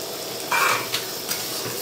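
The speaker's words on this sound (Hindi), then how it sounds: "प्याज को भी अच्छी तरह भूनेंगे अभी।" Onions frying in oil in a large wok for mutton curry, a steady close sizzle with a brief louder burst of hiss and a couple of light clinks of a utensil.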